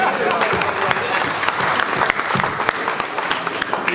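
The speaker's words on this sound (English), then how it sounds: "round of applause for Callum Smith" Dense, steady applause from a press conference audience greeting boxer Callum Smith, a continuous wash of many hands clapping close by with faint crowd murmur mixed in.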